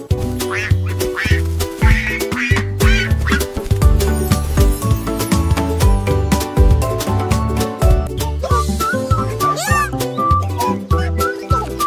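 Ducks quack repeatedly in a busy, rhythmic pattern over a dense musical backing, with dog-like yips and other animal noises mixed in.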